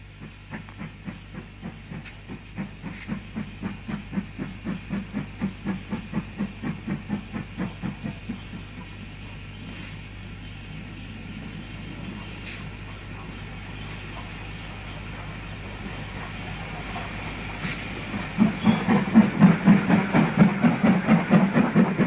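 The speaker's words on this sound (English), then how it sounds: "a train approaches from the south on a line known then and now as the Bluebell Railway" A steam train rolls toward a station on the Bluebell Railway, a steady rhythmic chuff and clickety-clack of wheels over rail joints, hissing underneath, growing louder and heavier near the end as it draws close.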